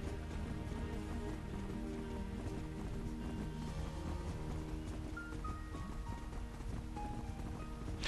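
Horse hooves gallop in the Horse Club video game on Switch, a fast steady clip-clop running throughout under background game music.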